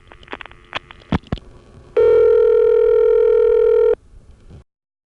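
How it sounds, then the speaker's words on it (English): A few clicks and thumps of dialing, then a loud, steady electronic ring tone on a trunk line of an NX1 crossbar telephone exchange in 1976, lasting about two seconds before cutting off to a faint hum. "that was 2 rings on a trunk, not a line"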